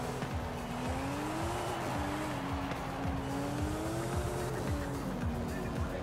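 A car driven in the video game Forza Horizon 5, engine droning steadily with rising and falling revs and gear changes, plus brief tire squeals, heard alone and without music.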